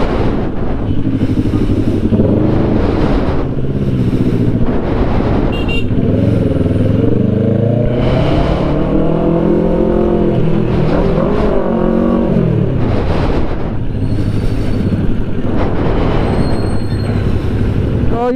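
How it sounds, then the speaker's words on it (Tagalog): Heavy traffic on a Metro Manila road rumbles past continuously, with engines surging and passing vehicles swelling loud and close, and occasional squeals, while a voice talks briefly. "Pero ayan no, sobrang traffic oh."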